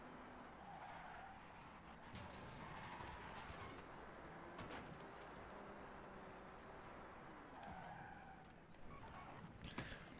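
A Porsche in Forza Horizon 6 driving hard with engine drone, tire squeal and skidding, continuous and fairly distant, with sharp clicks of game sounds and no talking.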